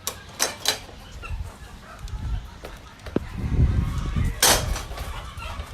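Chickens in a farm chicken coop clucking and squawking in scattered bursts, with occasional louder calls over a busy outdoor background and low rumbling noise.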